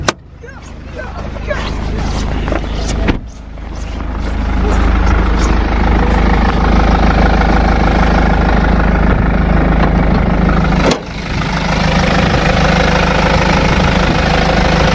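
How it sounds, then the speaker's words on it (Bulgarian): A 2.0-litre 184 hp diesel engine in a BMW X3 F25 idles nearby in snowy conditions, a loud steady clattering rumble that runs almost the whole time, broken by two sharp knocks. "Ето, сега ще ви покажа и двигателя"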